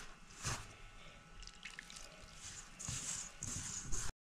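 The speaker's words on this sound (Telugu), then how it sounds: "వేడి నీళ్ళు కూడా కొన్ని పోసి కలుపుతాం" Hot water splashes and trickles into snack dough as it is mixed by hand, giving quiet, close pours with wet squishing and dripping in short uneven bursts.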